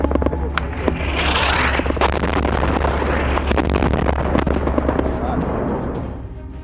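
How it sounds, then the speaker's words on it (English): A 2,000-pound bomb dropped by an F-16 strikes a target building in a conflict zone, producing a long, loud rumbling blast that swells with sharp cracks and fades over several seconds. "The rounds are hitting right in front of us."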